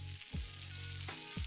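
Potatoes fry uncovered in the oily fat of a pork adobo, producing a soft, continuous sizzle with a low background hum, quiet and brief.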